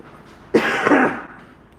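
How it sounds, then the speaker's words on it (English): A single harsh, close cough bursts out and fades over about half a second, with quiet room tone before and after. "This cough, man."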